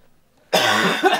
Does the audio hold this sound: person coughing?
yes